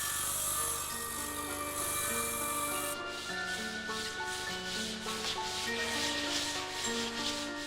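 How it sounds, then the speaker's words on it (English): Electric saws and planes shaping wood for a replica of the Colditz glider, heard as a steady rasping whir that turns into a rhythmic, pulsing planing scrape partway through, under a background of tonal sound. "Electric saws and planes do the work in seconds that took Jack, Bill and the others weeks."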